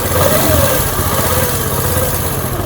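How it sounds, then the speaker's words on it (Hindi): Honda CD70 motorcycle kick-started after a connecting rod repair, its small single-cylinder engine running close by with a steady, loud putter and no talk over it. "अभी किक मार के बाइक को स्टार्ट करके चेक कर लेते हैं।"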